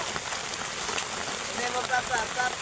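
Steady rain falls on a farm field, a dense even hiss spread across the whole stretch with faint scattered drop patter, while someone talks briefly over it.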